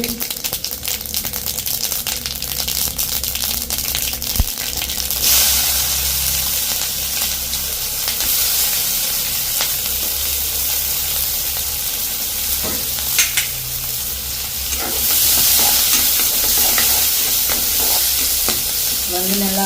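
Fennel seeds sizzle loudly in hot oil while frying for a Jaffna-style stingray curry, a continuous close hiss with light stirring clatter and swells of crackle throughout.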